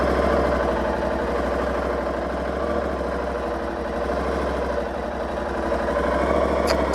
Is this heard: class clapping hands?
no